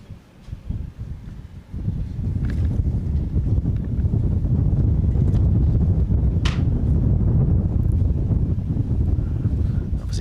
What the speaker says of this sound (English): that's where the wind is a little bit more gusty